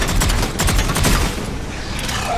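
Gunfire in the shooter game Mass Effect 3, a dense loud barrage of overlapping rapid shots that continues without pause before easing slightly.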